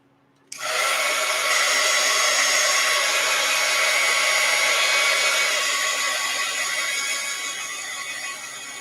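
A hair dryer switches on abruptly and runs with a steady high whirring hum while drying watercolor paint on a postcard, loud and continuous, easing slightly toward the end, with no voices.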